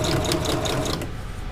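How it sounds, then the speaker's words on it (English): Sewing machine running steadily while stitching slick underquilt fabric close to a rolled edge for a DIY camp chair underquilt, a continuous close mechanical whir that eases off slightly near the end. "Sewing as close to the outside of that roll as I can"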